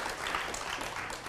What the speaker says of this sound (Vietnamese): Cho một tràng pháo tay nữa để Lá Chầu Xanh xuất hiện